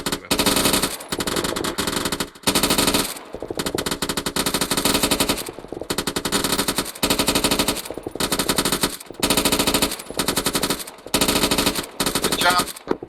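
Machine gun in the Arma 3 video game firing long rapid bursts, loud and close, with brief pauses between strings of shots over nearly continuous gunfire.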